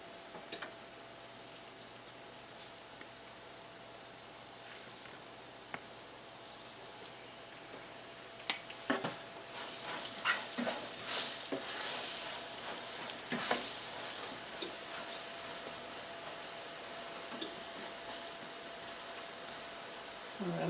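Eggplant slices fry in a pan with a quiet background sizzle at first. Louder crackling and popping bursts come in partway through, with brief faint talk.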